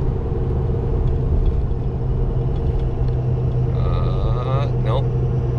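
A single rear wheel pickup truck hauling a heavy load uphill in 5th gear, heard as a loud, steady, low engine drone that fills the whole clip, with a brief faint whine near the end.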